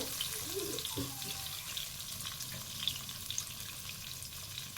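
Ground mustard paste thinned with a little water sizzles in a pan over a high gas flame while mustard hilsa in coconut milk is being cooked. A steady, close frying hiss runs throughout with faint stirring.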